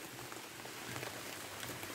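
Rain falls steadily on plants outdoors, a soft continuous hiss of drops pattering on leaves, faint and even with no voices.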